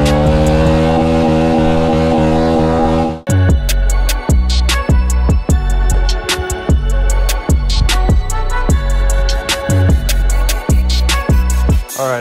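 A 2023 Honda CRF110 dirt bike engine idles steadily, then revs in a string of sharp, rhythmic blips, each throttle burst rising and falling close by and loud, with no talking over it.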